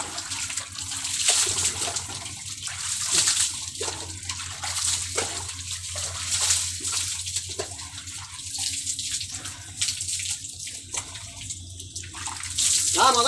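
Water poured repeatedly during a bath splashes loudly and close, in uneven bursts that run nearly without pause.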